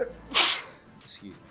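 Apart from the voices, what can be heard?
sneeze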